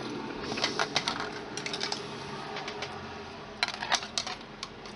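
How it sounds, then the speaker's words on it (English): Wire cutters snip through thin wire in a series of small crisp clicks and taps, clustered in short bursts with quiet pauses between, close and fairly faint. "I'll just take my wire cutters and cut those"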